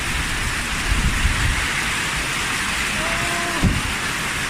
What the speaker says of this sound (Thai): ฝนตกหนักเลยฝนตกฝนตก